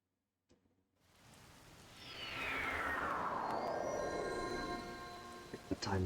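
Rain in a Zelda game builds from silence into a steady, dense hiss, with a sweeping whoosh through the middle and a few faint knocks near the end.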